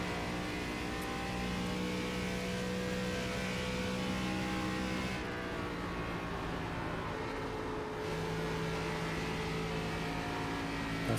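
Race car engine in the sim game iRacing, revving steadily at high pitch with a sustained, close drone that dips briefly as the driver shifts before climbing again.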